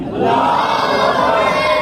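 A religious gathering's crowd roars a single loud, unified chant in response to a call, a dense burst of many voices shouting together for under two seconds.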